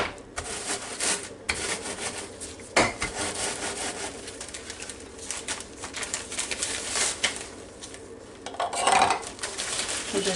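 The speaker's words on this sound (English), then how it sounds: "Just an old-fashioned rolling pin. and just roll it, and it will crush them up in just a minute." An old-fashioned rolling pin rolls back and forth, crushing ingredients in a sleeve for a chicken pot pie topping, giving irregular crunching and rubbing sounds at close range with a few sharper knocks and no talking.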